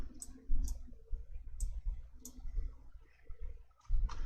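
Mouse buttons click in a spreadsheet: five or six sharp, light clicks spaced irregularly about half a second to a second apart, close up and alone, with a faint low hum beneath.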